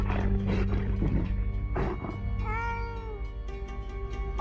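Loud, close meowing and yowling from a cat in a video game cutscene, several drawn-out cries over a mechanical background hum, with one long wavering call in the middle.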